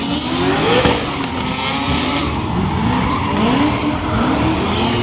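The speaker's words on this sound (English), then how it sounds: "Some good wide drift action from all three boys." Drift cars at a Hot Wheels drifting show skid around the track with long, overlapping tire squeals, loud and close, over the continuous roar of engines being revved hard.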